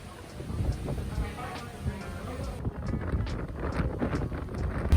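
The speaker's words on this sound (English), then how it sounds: "Windy." Wind gusts buffet the microphone on a gloomy, rainy day in South Beach, Miami, a loud rumbling whoosh that continues throughout with scattered thumps and faint background noise.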